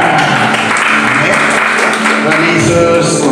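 Church congregation applauding during a worship service in a Jakarta apartment, a dense, steady wash of clapping that fills the whole moment, with a voice mixed in beneath it.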